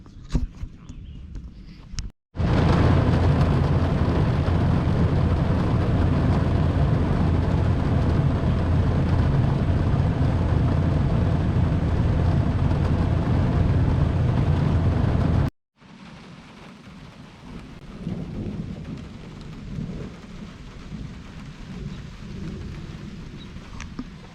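Heavy thunderstorm rain roars in a dense, loud wash for about thirteen seconds, then drops to a softer, distant patter of rainfall, while camping beside a Buick on a road trip.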